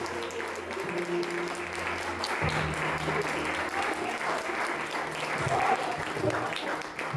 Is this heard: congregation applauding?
yes